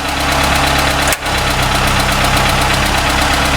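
A generator engine runs loud and steady with a strong, even pulsing hum while its starter is loaded, broken by one very brief dip, no talking.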